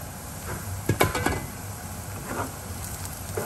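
A pot lid comes off a pan of frying onions while ghugni is cooked, heard as a few close metallic clinks and a short rattle over a quiet background sizzle.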